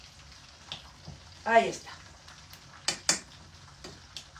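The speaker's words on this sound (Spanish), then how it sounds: "Y a la sartén que se vaya friendo." Breaded chicken breasts frying in a pan, a soft steady sizzle under a few clinks of utensils, with someone speaking briefly nearby.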